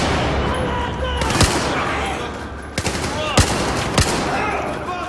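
Gunfire in the Battlefield 4 video game, Baku mission: rapid automatic weapon bursts and several sharp single shots over a loud continuous combat din, close and intense throughout.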